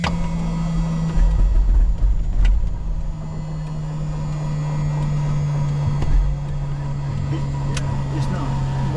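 A small aircraft engine, registration N5786K, cranking and struggling to start after weeks unused: a low droning churn with uneven surges, close and loud, with people talking over it.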